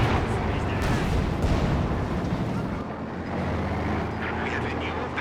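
Artillery barrage in Company of Heroes 2, a 2v2 match with Ostheer forces, rumbling as a dense, continuous wall of distant booms and blasts under a speaking voice.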